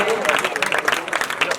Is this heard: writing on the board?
no